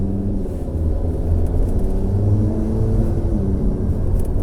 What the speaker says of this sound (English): let's take the car on one of our usual country lane routes and see how the general handling and feel is